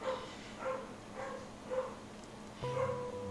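Dogs bark in a regular series of about five yelping barks, moderately distant and fairly faint, with a slightly louder burst at the end.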